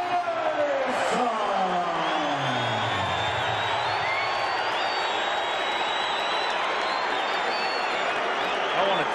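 A large arena crowd roars and cheers continuously before the 1988 Mike Tyson vs Michael Spinks heavyweight title fight, a dense sustained wash of noise with whistles and a brief announcer-like voice early on.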